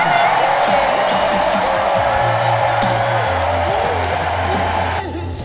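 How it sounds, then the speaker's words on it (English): Podcast studio audience applauding and cheering, dense continuous clapping with crowd noise and a voice talking over it, easing slightly near the end. "Big round of applause."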